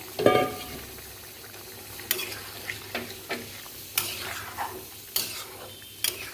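Boiled potatoes go into spiced oil frying in a pan, with a sizzle at first, then a gentle background fry. A spoon scrapes and stirs in regular strokes about once a second.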